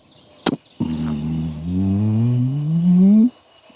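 A man imitates by mouth a wild tom turkey's spitting and drumming: one sharp spit-like puff, then a sustained low resonant hum that slowly rises in pitch and cuts off abruptly, close and clear.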